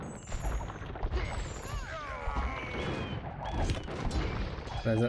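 Bombard cannons fire in an Age of Empires II match: a dense clutter of booms, crashes and impacts with whooshing battle effects throughout, loud and continuous, with game sounds layered over it.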